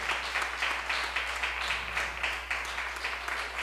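A congregation claps during a church service, a fairly soft, steady patter of many hands sounding somewhat distant, with a constant low hum beneath.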